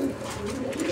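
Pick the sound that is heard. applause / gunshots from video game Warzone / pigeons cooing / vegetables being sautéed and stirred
pigeons cooing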